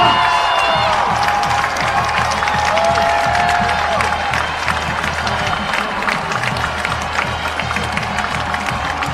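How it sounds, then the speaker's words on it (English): Big crowd at a night high school football game, Ankeny Centennial vs Ankeny, roaring and cheering continuously in a loud, sustained mass with scattered clapping and shouts. "there's a good crowd here tonight"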